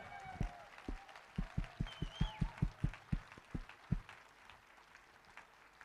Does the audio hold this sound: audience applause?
yes